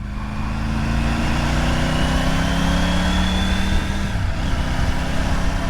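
A Triumph Tiger 900 Rally motorcycle under way, its engine note climbing in pitch and then dropping as a gear is shifted near the end, with steady wind and road noise.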